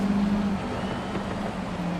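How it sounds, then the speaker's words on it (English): Boosted inline-five car engine in Forza Horizon 5, a brief steady low drone that dips slightly in pitch, moderately loud with no voices. "It sounds like a 5-cylinder to me."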